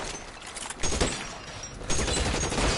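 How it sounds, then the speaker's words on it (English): Rapid bursts of gunfire from an L.A. Noire shootout, dense crackling volleys that swell louder in two waves, heard alone without talk. "where are they shooting from?"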